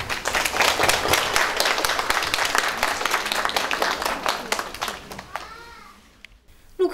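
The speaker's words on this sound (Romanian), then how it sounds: "aș vrea să-i aplaudăm pe toți cei care s-au auzit și au pus umărul la realizarea" A dense burst of audience applause at a Romanian art competition ceremony, steady crowd clapping for about five seconds before fading out, with a voice beginning to speak at the end.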